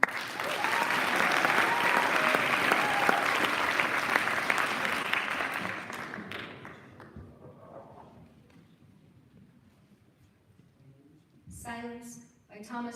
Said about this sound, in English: please give a warm round of applause for Emily Musica